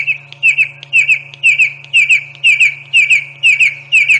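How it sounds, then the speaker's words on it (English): A red-crested korhaan calls repeatedly in a regular rhythm, sharp rising notes in quick pairs, loud and close, over a faint steady low hum. "you will never ever forget what a red-crested corehorn call sounds like"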